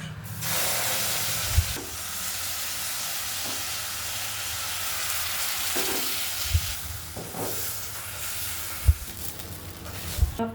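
A batter of beaten egg and yogurt hits a hot wok with a steady, close sizzling hiss, broken by a few soft low clunks of utensils.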